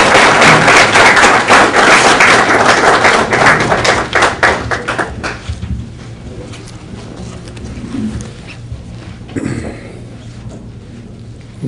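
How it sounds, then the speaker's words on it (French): Audience applause at an official launch event for an investment and entrepreneurship organisation, a dense, loud burst of many hands clapping that thins out and fades after about five seconds into a quiet room. "Il faut l'applaudir."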